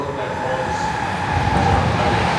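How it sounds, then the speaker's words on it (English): The first metro train arriving into a newly opened Metro Tunnel underground station, a loud, steady rolling roar of wheels and motors echoing through the platform, with crowd chatter mixed beneath. "get footage of the very first train arriving into the tunnel"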